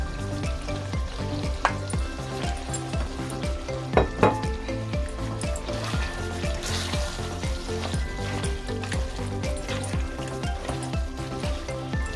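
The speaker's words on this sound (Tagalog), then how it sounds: "Lagay na natin ang ating carrots guys." Carrots going into Filipino igado frying in a pan, with a steady close sizzle and a couple of clinks and stirring scrapes over it, no talking.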